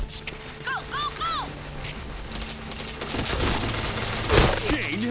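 Rapid bursts of video game gunfire in a shooter match, sharp repeated shots and clattering under excited talk, with a louder crack near the end.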